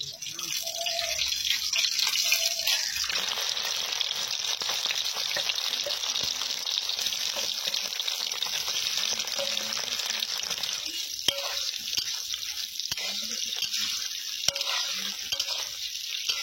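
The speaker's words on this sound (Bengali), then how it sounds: "ডিমের পিসগুলো এবার তেলের মধ্যে একবার ভেজে নেব। সেই জন্য কড়াই অনেকটা সরষের তেল দিয়ে নিচ্ছি।" Egg pieces fry in plenty of mustard oil in a wok, giving a steady, close, continuous sizzle that runs the whole time with occasional soft stirring sounds and no talk.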